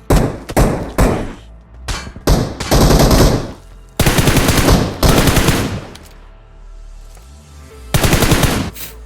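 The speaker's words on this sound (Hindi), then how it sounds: "अब मैं फिर से इसको डैमेज देता हूँ और वो भी मेरे ऊपर गोली चलाता है।" Automatic and single gunfire in the BGMI (PUBG Mobile) Frozen Kingdom mode comes in loud, close bursts separated by short pauses, with no talking over it.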